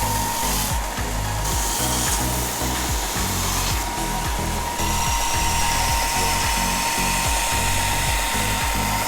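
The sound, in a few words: belt sander sanding wooden sled pieces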